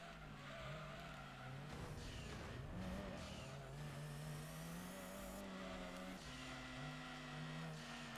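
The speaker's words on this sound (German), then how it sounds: "Wie der BMW, ich glaube das ist ein BMW. Wie der eiskalt mit Vollspeed easy going durch die Kurve kam." BMW race car in Gran Turismo 2 taking a corner at full speed, a steady buzzing engine drone rising and shifting pitch with tire scrubbing noise, continuous and close.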